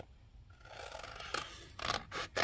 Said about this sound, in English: trim this down with my scissors